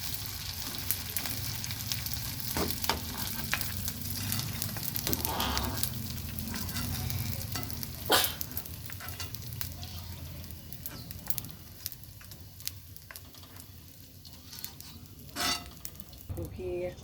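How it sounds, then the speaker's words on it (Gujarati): Continuous sizzling of edible gum frying in hot ghee, with occasional clinks and scraping of stirring over a low background hum. "બે ચમચી ગુંદર છે તળી નાખું"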